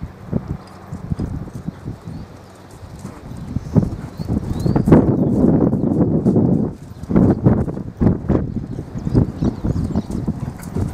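Hooves of a chestnut crossbred working horse clip-clop in an uneven walking rhythm on open natural pasture, close and moderately loud, with a few heavier thuds and steady outdoor background.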